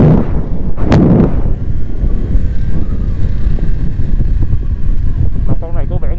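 A Ducati 848 motorcycle with a dry clutch runs with a loud, rough, continuous rumble and a sharp burst near the start, with a faint voice underneath.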